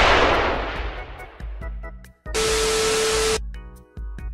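A loud, harsh gunshot sound effect in a Five Nights at Freddy's animation: an opening blast decays into fizzing noise, then a flat sustained burst of static-like noise cuts off sharply, with brief tonal blips around it.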